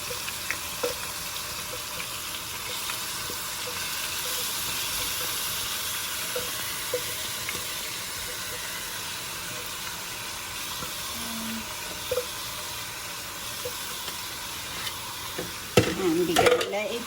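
Aloo wadiyan curry of potato and soya chunks sizzles steadily in a pan over a medium gas flame, a constant close hiss with occasional soft scrapes of stirring and a brief clatter near the end.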